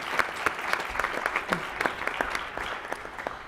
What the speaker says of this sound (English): If you would all please give them a round of applause for the great job they've done.